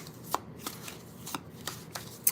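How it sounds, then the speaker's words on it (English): Tarot cards shuffled up close, crisp flicking taps arriving in an uneven rhythm against a quiet room, no voices. "I have to give this a good shuffle."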